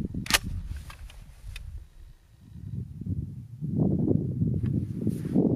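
A 12 gauge shotgun firing Foster slugs at a pumpkin at long range outdoors, one sharp loud shot near the start followed by a few fainter cracks and rustling handling noise.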